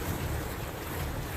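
Swollen monsoon floodwater rushes past the river ghats at Rishikesh as a continuous, dense roar with no pauses, loud and steady with wind buffeting the microphone and no voices.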